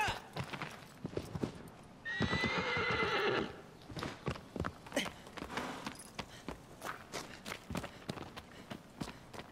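A horse in the video game Shadow of the Colossus gives a loud whinny amid steady clip-clopping hooves, the hoofbeats running on before and after the neigh, near and clear.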